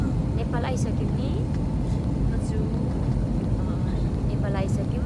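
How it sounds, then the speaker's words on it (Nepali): An airliner cabin during the descent toward landing in Nepal after a flight from India, a loud, steady low engine drone filling the whole stretch with faint higher whines on top. "अब प्लेन एकदमै ओह्रालो बाटो लाग्दैछ"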